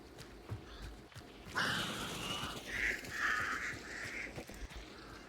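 Crows caw in the Hunt Showdown video game, several harsh calls in a short burst after a quiet stretch, fairly faint amid soft footstep-like ambience.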